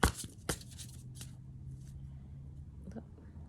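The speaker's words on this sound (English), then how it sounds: "I'm just gonna pull some cards" Tarot cards are shuffled close by in a quiet room, with a couple of sharp riffling bursts at the start and then softer brushing, faint and brief.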